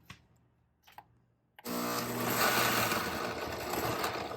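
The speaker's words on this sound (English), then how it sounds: "place your blender on low" A blender set to low purees hot potato celery soup. After a quiet opening with a couple of soft clicks, the motor starts abruptly into a loud, steady, close whir that holds to the end.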